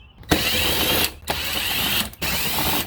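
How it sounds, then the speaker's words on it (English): A T25 ratchet loosening airbox bolts on a Saab B284 2.8T V6, loud close rapid clicking in three bursts separated by brief pauses. "We're gonna take our T25 and loosen up all the bolts all the way around the airbox"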